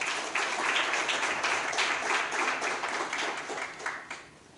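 Applause from an audience at a Nigerian military training college ceremony, a crowd clapping steadily at moderate distance and slowly fading toward the end.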